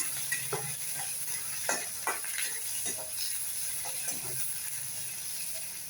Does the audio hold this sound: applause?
no